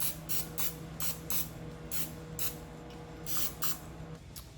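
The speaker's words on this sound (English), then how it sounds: "let's go ahead and put in some cooking spray in our dish" Cooking spray misted into a baking dish in short hissing bursts, about a dozen quick sprays in uneven clusters, close and fairly quiet over a faint steady hum.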